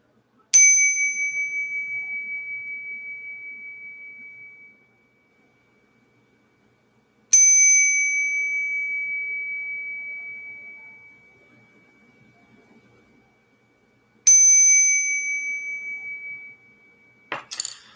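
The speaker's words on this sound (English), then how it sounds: "We're going to do some chimes." Three struck chime or singing-bowl tones ring out several seconds apart, each bright, clear and sustained, decaying slowly into near silence, with a fourth strike starting just at the end; no talking.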